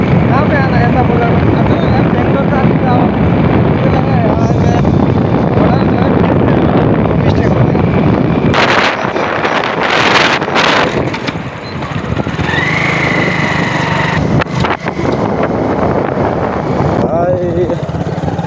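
Strong wind buffeting the microphone while riding a motorbike on a road, a constant loud roaring rush with engine drone underneath, easing midway into quieter riding noise with brief gusts.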